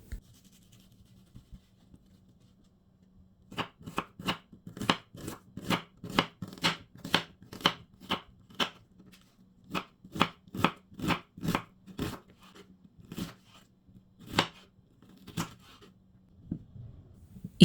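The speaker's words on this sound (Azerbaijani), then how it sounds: "Bir böyük baş soğanı xırda doğrayıram." A knife finely chopping a large onion on a board, rapid rhythmic taps in bursts after a quiet start, close and crisp with short pauses between runs.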